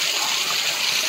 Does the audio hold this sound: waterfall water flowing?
yes